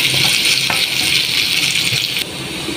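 Shrimp frying in a pan, a loud steady hiss and sizzle with faint stirring clatter, close up and alone for a few seconds.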